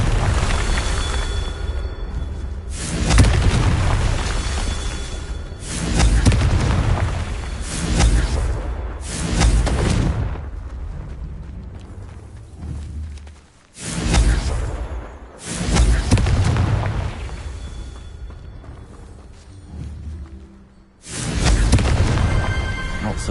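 Spell blasts from Hogwarts Legacy, the Confringo fire curse among them, go off as repeated loud booming explosions with whooshing bursts every few seconds, punctuated by brief lulls and deep thuds.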